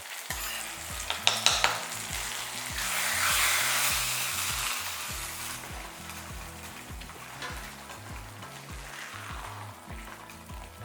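Wheat rava kesari, with cashews and raisins fried in ghee added, is stirred in a pan, giving a steady scraping sizzle over about eleven seconds alongside tonal background music.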